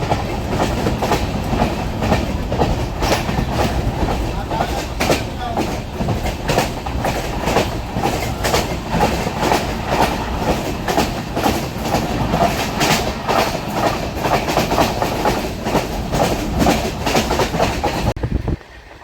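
Onboard the 22618 Intercity Superfast Express from Bengaluru to Tirupati, a steady loud rumble of the train running fills the whole stretch, with rhythmic clattering wheels on rails and no voices.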